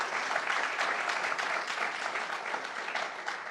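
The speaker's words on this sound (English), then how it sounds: "please join me in one more round of applause for Governor Kathy Hochul" Audience applause for Governor Kathy Hochul at an event in Poughkeepsie, a steady wash of clapping that holds even throughout the clip with no break.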